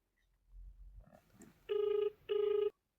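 Phone ringback during an outgoing call: after a soft rustle, two long electronic ring tones sound, each about half a second, separated by a short gap.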